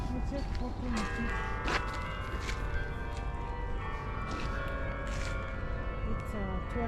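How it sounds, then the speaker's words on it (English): Church bells chime the hour in a Polish town, a steady ringing heard in the distance beneath continuous talk and ambient street noise. "there you got the chimes"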